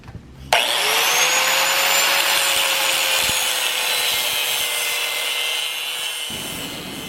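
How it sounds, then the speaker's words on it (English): A 4-inch angle grinder cuts into steel while shaping a hook for a log jack, starting with a sharp bite and then holding a steady, loud whining grind for several seconds before cutting off. "I'm just going to take the 4-inch grinder and start working my way around this guy right here"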